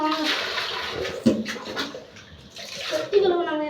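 Hands scrub and wash an algae-covered water tank, giving off sloshing, splashing water noise with intermittent swishes while voices talk nearby.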